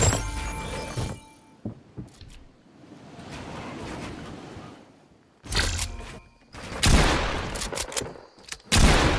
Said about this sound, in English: now we're shooting?